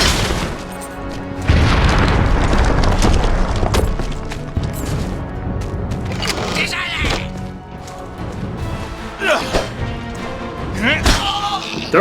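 Explosions in the video game Enclave, heavy booms and crashing impacts layered over game music and effects, loud and dense throughout, with a voice talking over the action.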